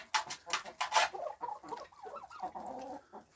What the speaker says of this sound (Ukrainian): Це основний індик.